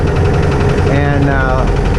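The engine of Rusty, a Spryte snowcat, runs close and loud with a steady throbbing rumble and rattling vibration.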